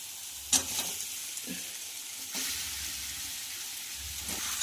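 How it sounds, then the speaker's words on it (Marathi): Crushed potatoes fry with a coarse ginger, garlic and green chili paste in a pan for samosa filling. A steady close sizzle runs throughout, with a few soft stirring scrapes and taps and no talking. "हे सुद्धा छान असं फ्राय झालेलं आहे। यानंतर यामध्ये जाणार आहे क्रश केलेले बटाटे"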